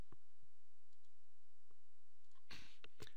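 Computer mouse clicks in a quiet room, a few sparse soft clicks followed by a louder cluster of sharp clicks near the end, no talk.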